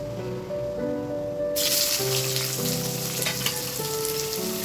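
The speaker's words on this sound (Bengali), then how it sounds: "এবারে এর মধ্যে দিয়ে দেবো হচ্ছে এই যে কেটে রাখা পেঁয়াজ" Sliced onion goes into hot oil already tempered with cardamom and cinnamon, and a loud, steady hiss of frying starts abruptly and carries on close by, with no talking.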